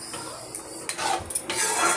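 Salt is stirred into spinach kootu in a metal pot, giving a short run of scraping and clinking spoon-on-pot sounds, close and moderately loud, with no talk.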